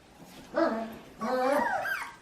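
Puppies about four weeks old whimpering close by in two drawn-out whiny bursts, the second longer and rising in pitch.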